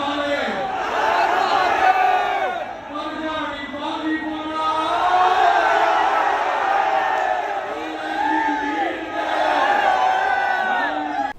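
A large crowd at a JJP political rally in Sikar roars and shouts continuously, with overlapping cheering voices swelling and falling in loud waves.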